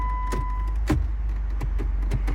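A 2018 Jeep Wrangler Unlimited Sport JK with automatic transmission idles with a steady low rumble, broken by several sharp clicks and a brief high chime near the start. No one speaks.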